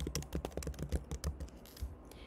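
Quick, irregular clicks of fingers typing on a computer keyboard, close and clear, with no voices over the keystrokes.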